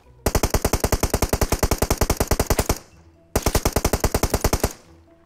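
Automatic gunfire in a shooter video game, a loud, rapid, evenly spaced burst of about two and a half seconds, a short pause, then a second burst of just over a second.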